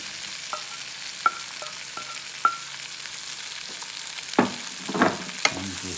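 Squash is stirred while it cooks in a Power XL, with scattered scrapes and light clicks over a low frying hiss, and a few louder clattering stirs near the end.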